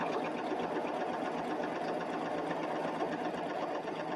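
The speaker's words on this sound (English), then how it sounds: "Here's somebody outside with their blower." A leaf blower runs outside at a distance, a steady, unbroken motor drone with a continuous hum that holds at an even level throughout.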